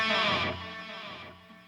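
An electric guitar tone sustains and slowly fades through delay and reverb trails on a Line 6 POD Go with its noise gate eased off, letting the tail ring out gradually rather than cutting off.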